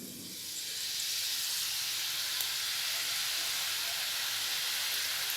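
Mixture dough pressed into hot oil sets off a hiss that swells within the first second, then holds as a loud, continuous, close sizzle with no voices.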